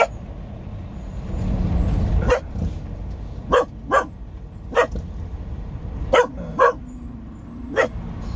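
A dog barks in short, sharp bursts, about eight or nine barks spaced irregularly over a low background rumble of traffic.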